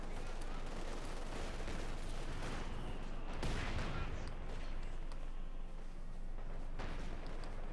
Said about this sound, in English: Light machine guns rolling away there, tearing into bodies with high rates of fire